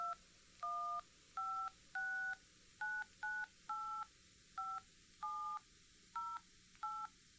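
A rapid sequence of about a dozen telephone keypad tones, each short beep evenly spaced, clear and close over a faint steady hiss.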